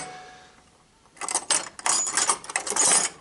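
A spanner loosens the 8mm battery terminal bolt on an Aprilia RSV4 motorcycle. After a quiet moment come close metallic clicks, scrapes and rattling turns in quick irregular bursts.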